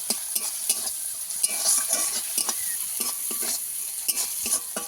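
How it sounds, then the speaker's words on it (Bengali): Garlic paste frying in a pan for a spicy tuna curry with eggplant, a steady bright sizzle with repeated stirring scrapes and a few sharper clicks of the utensil, close and constant. "রসুন বাটা দিয়ে দিলাম রসুন বাটাটাকেও ভালো করে ভেজে নেবো"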